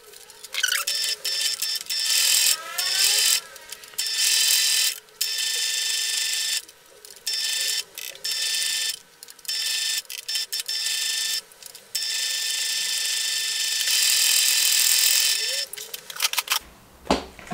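A sewing machine stitching a bag seam runs in loud bursts of rapid whirring and clatter, stopping and restarting several times at close range, with a final short pause and thud near the end.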